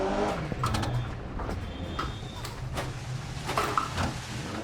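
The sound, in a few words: rally car sliding on snow in Dirt Rally 2.0 video game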